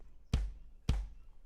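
A few sharp, evenly spaced drum hits in a slow rock groove: deep thumps with a bright snap, close and fairly loud.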